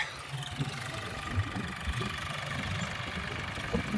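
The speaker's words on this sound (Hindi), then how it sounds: "एक ही ट्रैक्टर चल रहा है, दूसरा नहीं है अभी।" A tractor engine runs at a steady, faint idle-like chug with a low rhythmic rumble, heard from a distance throughout.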